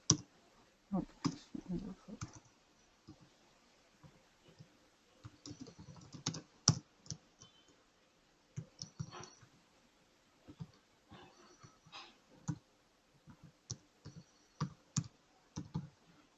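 Code being typed on a computer keyboard during a Java strings lesson, a steady run of close, crisp key clicks in quick irregular bursts with short pauses, quiet background otherwise.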